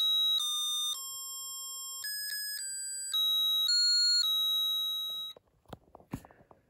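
A Snap Circuits Extreme SC-750 music circuit plays a simple electronic tune as a run of clear, pure beeping notes at changing pitches, close and steady, then cuts off into soft handling clicks.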